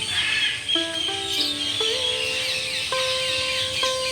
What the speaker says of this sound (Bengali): পাখির কিচিরমিচির শব্দ শুনতে আসলেই অনেক ভালো লাগে